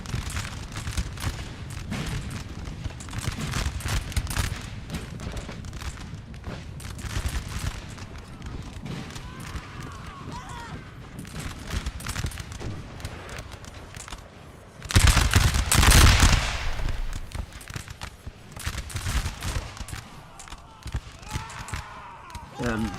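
Musket infantry in a Napoleonic battle video game firing constantly, a dense crackle of volleys with a louder burst midway, heard under ongoing talk.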